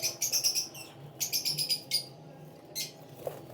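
Breeding birds at a nest with a clutch of eggs give bursts of bright, rapid chirping in several close clusters, with short pauses between them as the female flies out.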